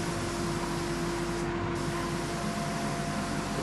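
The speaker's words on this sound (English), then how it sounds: "spray gun" A Ryobi spray gun sprays clear coat onto a repaired surfboard, giving a loud, constant hiss of air and atomised finish with a steady mechanical hum and only a brief dip in the middle.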